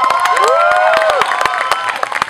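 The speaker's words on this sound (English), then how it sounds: "a round of applause for all of our wonderful organizers" An audience at an awards event for a performance class claps and cheers for the organizers: dense, continuous applause with scattered whoops and high shouted cheers, loud and close.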